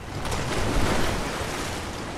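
Water released in Rise of the Tomb Raider rushes steadily, a broad, continuous loud roar of flowing water without breaks.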